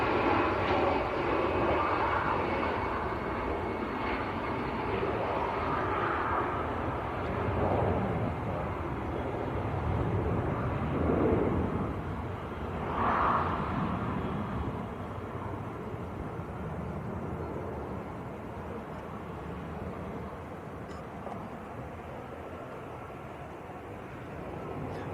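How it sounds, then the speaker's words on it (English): An EasyJet airliner bound for Amsterdam on its takeoff roll at Manchester Airport makes a broad, sustained jet engine roar from a distance that swells and then slowly fades, heard alone without talk. "EasyJet on the roll. It's EasyJet to Amsterdam."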